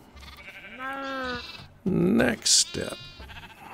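A sheep bleats in the TerraFirmaCraft video game, a wavering nasal call near and clear, followed by a second short bleat; someone speaks briefly in between.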